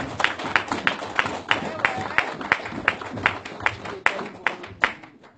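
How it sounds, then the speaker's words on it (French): An audience at a pan-African gathering in France claps in a steady, even rhythm, a dense run of sharp hand claps at a moderate distance with voices murmuring underneath. "je vous demande un maximum d'applaudissements pour nos ancêtres"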